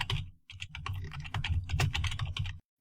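Rapid, close computer keyboard typing, a dense burst of clicky keystrokes after a brief opening pause, with no voices.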